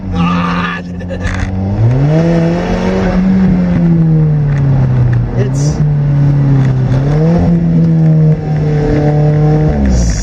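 A 2015 Alfa Romeo 4C four-cylinder engine revs hard and loud, its deep growling pitch rising and falling in sustained swells with a brief hiss of blow-off.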